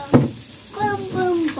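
Vegetables go into a hot pan in a home kitchen and start frying, a soft sizzle and stirring heard close by while a voice and an adult's voice talk over the cooking.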